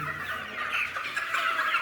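Black Brahma chickens cluck in a steady, overlapping murmur throughout, a close flock chattering continuously without pause.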